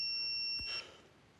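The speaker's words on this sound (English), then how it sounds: "It's my emergency pager." Emergency pager beeping with two steady high-pitched tones held for under a second and then cutting off, loud against a quiet room.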